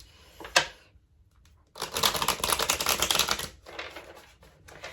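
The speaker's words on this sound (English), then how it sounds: "I really want to get these shuffled better, so bear with me here." Tarot cards riffled in one dense, crisp burst of rapid fluttering slaps lasting nearly two seconds, close up, followed by softer settling rustles, after a single sharp tap; no one speaks.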